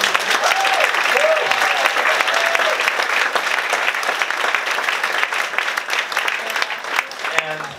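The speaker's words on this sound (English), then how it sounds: "let's give them a round of applause" A concert audience gives a sustained, full round of applause with scattered cheers, the clapping dense and steady, a voice briefly heard over it near the end.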